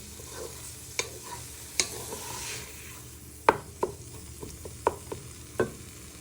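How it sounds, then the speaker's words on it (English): Minced meat browns in a pan with onion, garlic and chilli, sizzling steadily while a spatula scrapes and taps the pan several times. "then you add in your onion, garlic and chilli. And then what we'll do is brown them together"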